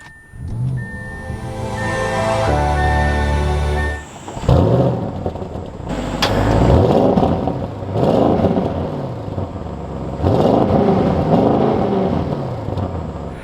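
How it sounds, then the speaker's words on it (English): The V8 of a 2024 Audi RS7 starts up and revs repeatedly, several rising and falling swells of loud, close exhaust roar with no talk. "take a listen to that V8."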